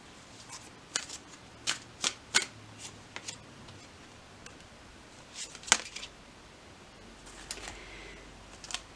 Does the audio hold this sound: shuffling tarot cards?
yes